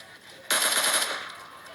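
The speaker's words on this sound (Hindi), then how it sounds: "मैं इस पे फायर भी करता हूँ कि ढीठ आदमी मैं इस साइड हूँ" Rapid automatic gunfire from a video game firefight bursts in loud and close after a brief lull, a quick run of rattling shots that then tails off into the game's background ambience.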